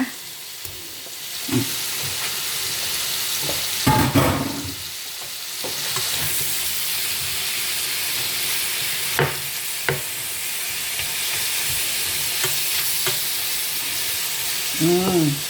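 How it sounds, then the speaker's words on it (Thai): Pork fries in a pan for a German dish, a steady close sizzle broken by repeated scraping and clinking as a spatula stirs the meat, with no speech. "ทอดหมูก่อนนะ"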